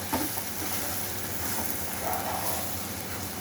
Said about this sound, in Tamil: இதை நல்லா நம்ம வதக்கிக்கலாம்